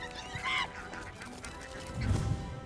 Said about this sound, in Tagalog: Ito po yung mga itik